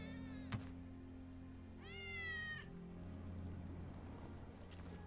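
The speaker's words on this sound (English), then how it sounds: "Hear that? Cats. That's Wedge's cat." A cat meows in Final Fantasy VII Remake, a single drawn-out mewl heard at moderate distance over a low ambient hum, with a faint click just before it.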